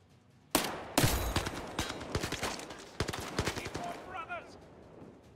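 Gunfire in the VR shooter Zero Caliber: a sharp first shot, then dense bursts of rapid close shots that thin out into scattered cracks, with faint voices near the end.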